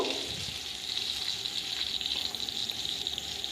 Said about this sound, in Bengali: এখন আলুগুলোকেও হালকা করে ভেজে নিচ্ছি